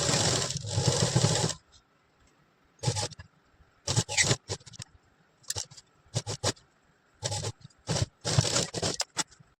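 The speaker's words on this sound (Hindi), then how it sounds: "इसको हम सिल लेंगे।" A sewing machine stitches a lace yoke neckline onto fabric, beginning with one long run and then moving through short bursts of whirring stitches separated by pauses.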